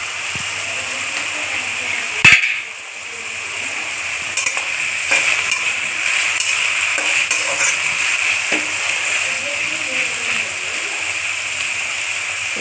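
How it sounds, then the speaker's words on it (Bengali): Dried red chillies and black cumin dropped into hot oil for a Bengali boroli fish dish, bursting into a sudden loud crackle and then settling into a continuous close sizzle with occasional pops. "এবার আমি এই দেখো দুটো শুকনো লঙ্কা একটু কালো জিরে রেখেছি, এটা আমি ছেড়ে দেবো এটার মধ্যে"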